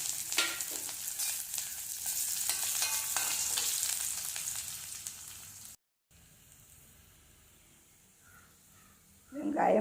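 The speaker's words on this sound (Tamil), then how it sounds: "அந்த வெங்காயத்தை இதில் கொட்டணும்." Chopped onions sizzle and crackle steadily in a hot pan for several seconds, then the sound cuts out briefly and returns quieter with a clatter at the end.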